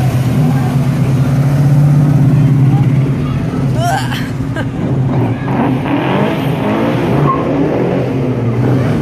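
A Ford GT 351 driving past in a car parade at the Red Centre NATS, heard as a loud, close, deep engine roar that swells and then eases as it goes by, with other cars and crowd noise behind it.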